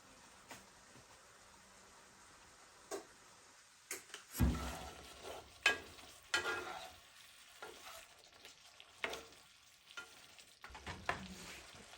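Store-bought Hereford meatballs heating in a pan, giving a low steady sizzle with scattered clinks and scrapes of utensils against the pan, fairly quiet and without talk.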